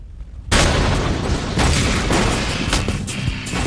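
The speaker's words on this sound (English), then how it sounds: "When it's fired off, this will basically become a projectile, a slug, like a gun, that will penetrate through armor." Armor-penetrating shaped charge detonating and firing a slug into a steel plate, a sudden loud blast that breaks out of quiet and rolls into a long rumbling roar lasting several seconds.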